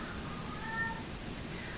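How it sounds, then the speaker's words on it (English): A cat in heat meows in the background, faint tonal cries rising and falling over steady low room noise, with no talking. "I'm sorry about my cat. I think she's in heat."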